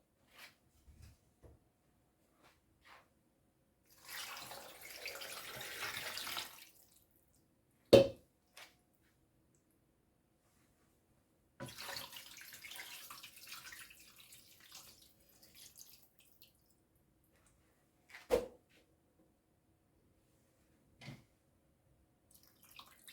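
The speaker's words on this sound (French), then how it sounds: "Je vais ajouter de l'eau." Water is poured from a container into a pot of peanut sauce with smoked chicken, giving two quiet, splashing pours of several seconds each, separated by a few soft knocks and clunks, with no talking.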